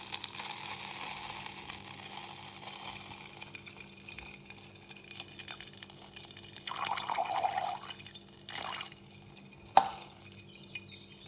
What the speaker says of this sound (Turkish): Tereyağını gezdireceğiz.